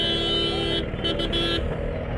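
Busy street traffic in Agra, India, with cars and motorbikes running steadily close by and a brief horn toot, under a person talking.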